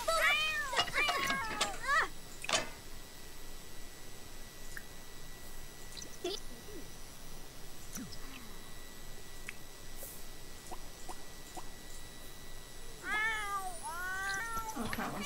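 A cat meows repeatedly in a short burst of rising, whining calls at the start, then again near the end, fairly close over a quiet room, with faint background sounds between.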